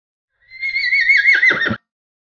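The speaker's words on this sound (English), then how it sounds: "Horse." A horse gives a single loud, close whinny lasting just over a second, its high wavering cry dropping into a rough, sputtering finish, with nothing else around it.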